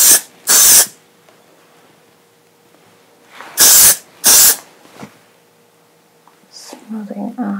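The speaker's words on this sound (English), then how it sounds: "Go ahead and add some hairspray." Hairspray is applied to hair in four short aerosol bursts, two early and two later, each close and crisp against near silence. Faint handling sounds follow at the end.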